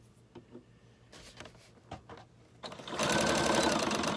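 A sewing machine runs a zigzag stitch around cardboard for a junk journal made from a box, starting after a few soft handling clicks and then stitching steadily and loudly to the end.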